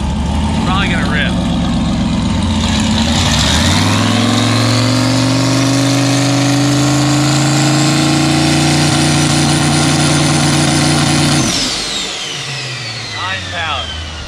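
A turbocharged Corvette with a junkyard engine held on the trans brake, the engine loud and close as revs climb and hold with a rising turbo whistle as boost builds, then drops back sharply; no one talks over it.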